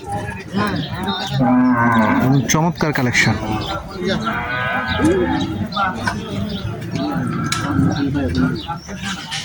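Cattle, including Sahiwal cows, moo repeatedly amid a busy crowd at a cattle market, with people talking loudly throughout and a steady murmur of market noise.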